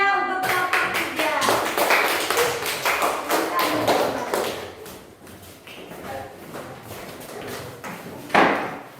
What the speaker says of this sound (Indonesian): Kita berikan tepuk tangan yang meriah untuk kelompok 3.